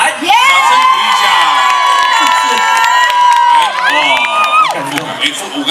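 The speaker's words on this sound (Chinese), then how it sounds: "掌声鼓励一下" A seaside outdoor music festival crowd in Pingtung cheering and shouting, with loud, sustained high-pitched screams and whoops that swell and then fade, dense and close throughout.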